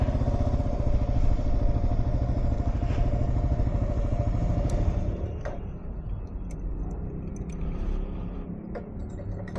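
Motorbike engines rumble steadily nearby, a deep continuous drone that eases a little partway through, with faint ticking on top.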